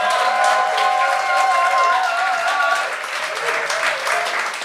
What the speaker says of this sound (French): Applaudissez pas trop vite.